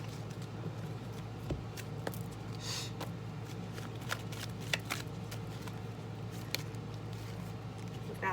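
Tarot cards being shuffled, a steady run of soft papery riffles and light taps with a few sharper flicks over a constant low room hum, fairly quiet and close.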